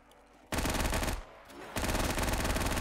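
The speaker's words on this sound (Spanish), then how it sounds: "El AK no dispara tan rápido como me gustaría, la verdad." An AK rifle fires in Call of Duty Zombies in two long, loud, sustained bursts of rapid automatic fire, separated by a short pause.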